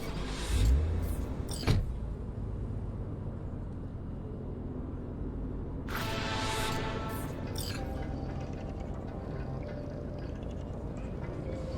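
A car drives through the city in the video game Cyberpunk 2077, its engine giving a steady low drone throughout, with a couple of short mechanical clunks at the start and a brighter whirring swell around the middle.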